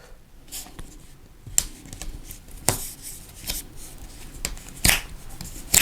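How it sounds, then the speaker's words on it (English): Vinyl alignment strips are lifted and peeled off a yard sign, giving several sharp, close tearing crackles spaced a second or so apart over quiet room tone. "All you gotta do is just use the width that you have and lift one side and just peel it off."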